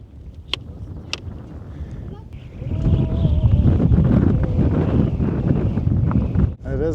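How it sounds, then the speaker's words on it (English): Gusty wind buffets the microphone outdoors by a remote bay in New Zealand's Sounds, a loud broadband rumble surging after a quieter start, with a drone motor and talk partly audible. "It is very gusty"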